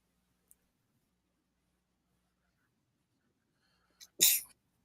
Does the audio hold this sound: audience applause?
no